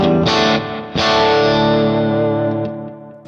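Electric guitar through a Kemper Tweed Twin Low amp profile without chorus or overdrive, two strummed chords ringing out loud and sustained with a slight gritty edge, no talking.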